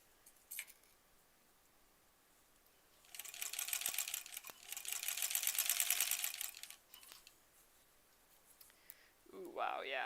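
A sewing machine stitching quilt rows together for a granny squares quilt, two close bursts of fast, even motor-driven stitching with a brief pause between, surrounded by quiet handling sounds and someone speaking at the end.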